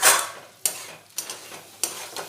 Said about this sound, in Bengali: ফুলকপি আলুটা আমি দু তিন মিনিট খুব ভালোভাবে নাড়াচাড়া করে নিয়েছি